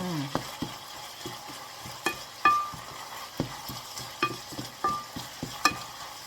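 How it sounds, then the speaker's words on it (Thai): Pork stir-fried with basil, shallots and carrot in a pan, with a spatula scraping and tapping in irregular strokes over a soft sizzle. The sound is close and moderately quiet, with no talking. "ผัดไปสักพักหนึ่งเนาะจ้า"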